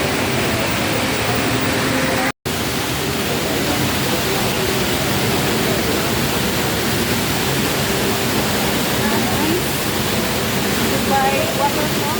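Indoor waterfall at the Dubai Mall, a steady broadband rush of falling water that stays loud and constant throughout, with a brief dropout early on and faint background chatter from the crowd.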